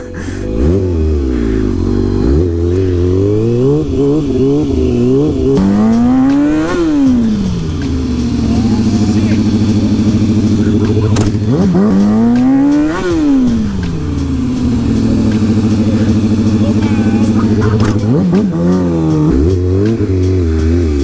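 A Kawasaki 636 sport motorcycle engine, a stunt bike, revving hard and close. The loud revs climb and fall in repeated rising and falling sweeps over a steady idle.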